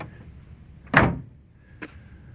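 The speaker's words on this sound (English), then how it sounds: "Doors close super easy." A 1971 Corvette door swings shut with one solid, close thunk, then a lighter latch click a moment later, with no talking.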